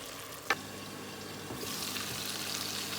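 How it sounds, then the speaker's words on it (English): Water poured into a cooking masala of tomato and spices, a short splash followed by a steady low pour and liquid hiss, faint and close, no voices. "Then I'm going to add little bit water."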